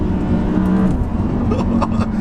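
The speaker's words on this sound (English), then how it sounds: "for now, listen to that engine" A powerful Audi R8 V10 Plus engine rumbles steadily up close, its pitch shifting slightly as it revs, with a faint whir over the top.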